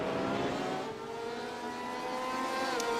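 Two Porsche race cars in iRacing at Zolder, engines droning loud and close as they brake hard into a chicane, pitch sliding steadily downward with a faint tire squeal at the end.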